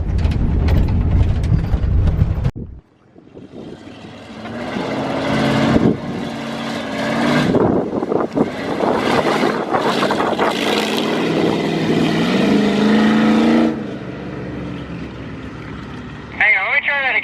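A prerunner truck drives off-road at Lake Matthews, its engine revving and rising in pitch through gear changes for most of the stretch, loud and close, after a brief quieter start.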